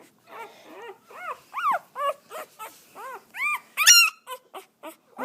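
Hungry Boxer puppies whimper and yelp close by, a rapid series of short, rising and falling cries with brief pauses between them, one louder squeal near the end, with no one talking.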